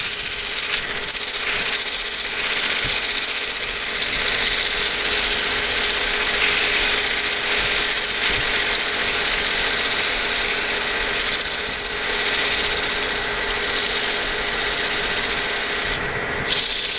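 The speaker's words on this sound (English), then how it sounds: "So now's the time to sand inside this recess" A wooden bowl spins on a lathe while sandpaper works inside its recess, giving a steady, loud, continuous rubbing hiss that runs unbroken for the whole stretch with no talking.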